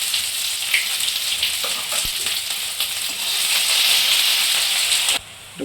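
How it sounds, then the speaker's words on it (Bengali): Chopped onion frying in oil with cinnamon, cardamom, cloves and bay leaves, a steady loud sizzle and hiss throughout, with a few faint stirring clicks, then the sizzle briefly drops away near the end. "ভালো করে লাল করে ভেজে নিতে হবে"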